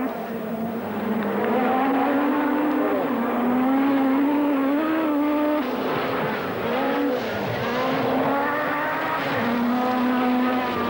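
Markku Alén's Lancia rally car on a stage of the 1986 Sanremo Rally, its engine revving up and down through gear changes at close range, a loud, continuous snarl with rising and falling pitch.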